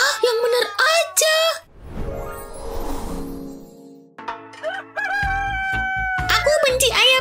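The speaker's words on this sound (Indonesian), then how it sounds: "Aku benci ayam jago." A rooster crows loudly and close, a long strained call in the middle, framed by bright cartoonish voices and music before and after.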